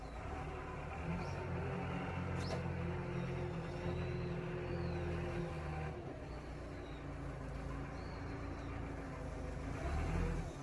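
A forklift drives the forward section of a practical driving licence exam course, its engine giving a steady, moderately loud drone with faint high chirps now and then and no talk.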